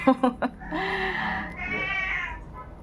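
A few short clicks, then a cat lets out a drawn-out meow that rises and wavers, followed by a second, higher meow, fairly close.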